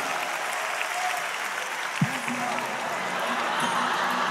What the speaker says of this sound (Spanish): Aplauso para el padre y el hijo de Talca.